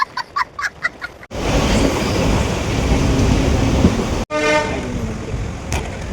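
A train at Ashokapuram railway station sounds several short horn toots, then rumbles loudly and continuously close by, with a few more horn notes near the end and no talk.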